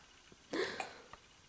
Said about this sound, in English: Someday you won't enjoy the hiccups.